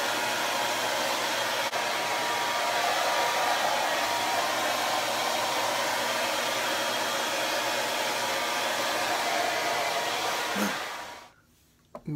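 A hair dryer blows steadily and loudly at close range, drying hair after a wrap treatment, with a continuous broadband roar that runs for about eleven seconds before cutting off abruptly.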